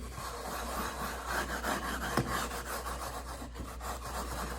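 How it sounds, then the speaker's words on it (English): A wood float rubs back and forth across deck mud on a shower pan, making a steady, close, gritty scraping with a brief sharper scrape partway through, under a low constant hum. "Then I hit it with the wood float."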